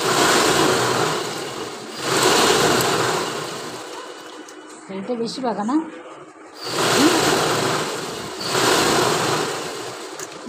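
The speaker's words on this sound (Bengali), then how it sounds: "এদিকে মা কাঁথা সেলাই করছে, মেশিনের আওয়াজ শুনতে পাচ্ছ" A sewing machine stitches a kantha quilt indoors, running in steady bursts of whirring with brief pauses, fairly loud and close, while a person speaks briefly in the gap between runs.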